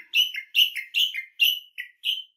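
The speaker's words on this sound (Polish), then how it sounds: "Szczególnie pięknie wybrzmiewają te trele podczas zalotów w okresie godowym." A small pet bird, a parrot or canary, sings a trilling song close up: a quick run of about seven bright, chirpy phrases in a steady rhythm, with no other sound around it.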